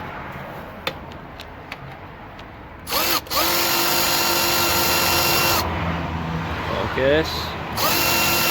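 A power tool loosens an alternator bolt on a 1998-2002 Honda Accord in short whirring bursts, then a longer steady run, with brief clicks and a short spoken word in between.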